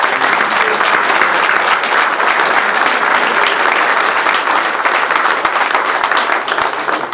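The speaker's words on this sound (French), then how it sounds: "On va les applaudir" Sustained applause from an audience at a village New Year's greetings ceremony, dense and steady throughout, loud and close with no talk over it.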